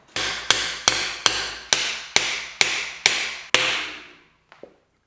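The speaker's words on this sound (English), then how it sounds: "maybe we grab, you know, the hammer since we have one." A hammer strikes a bicycle crank to drive out the spindle, nine evenly spaced sharp metallic blows ringing out clearly, followed by a faint light tap.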